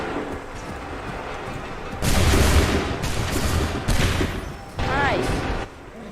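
Volleys of musket and cannon gunfire from an Assassin's Creed III Remastered battle, several loud broadband bursts in quick succession over continuous battle noise, with a voice calling out in between.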